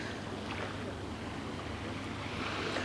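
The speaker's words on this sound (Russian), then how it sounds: "Ну потому что здесь волны, конечно, больше, чем в бухте." Waves from the sea roll in steadily along the shore at Kabardinka on the wide Tsemes Bay, a soft continuous wash mixed with wind noise and no clear voices.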